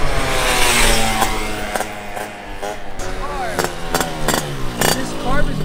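Engine of a 72cc Honda Elite Dio scooter, tuned with a fussy carburetor, revs up and drops back in uneven surges, its pitch sliding between bursts, punctuated by a few sharp clicks nearby.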